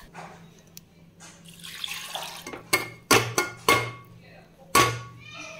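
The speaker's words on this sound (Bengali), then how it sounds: "এবার দিয়ে দেবো জল" Water poured into a cooking pot for a pea dal with pumpkin leaves, heard as close splashing with sharp metallic clinks and thumps from the pot, fairly quiet.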